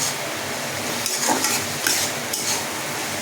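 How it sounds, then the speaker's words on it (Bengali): Potato and pointed gourd sautéed in a pan over medium heat, with a spoon scraping and stirring through the vegetables in a soft, uneven rhythm beneath a steady low sizzle. "এবার এটাকে দিয়ে ভালো করে কষাবো"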